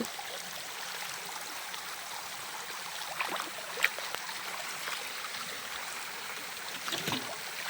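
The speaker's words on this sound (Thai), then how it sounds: "น้ำไหล" Water flowing steadily outdoors as a continuous broadband rushing hiss, moderately close, alone with a couple of faint knocks and no talk.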